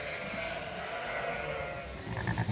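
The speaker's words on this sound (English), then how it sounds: "So I'm just feeding the sheep right now." Sheep bleat in a lambing barn during morning feeding, a dense wash of overlapping calls with a few louder, nearer bleats toward the end.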